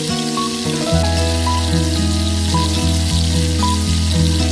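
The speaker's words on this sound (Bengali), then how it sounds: "আবারও ভালো করে মিক্স করে নিচ্ছি।" Spicy garlic mushrooms with a splash of vinegar being mixed in a hot frying pan, a continuous crackling sizzle layered under louder background music.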